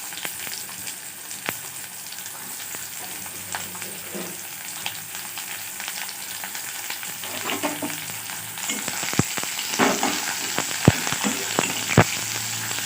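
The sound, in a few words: onions frying in mustard oil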